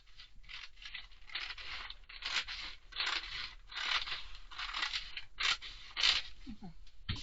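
Scissors cut through a paper skirt pattern, close and fairly loud, in a steady run of crisp snipping and crunching strokes with short pauses between cuts.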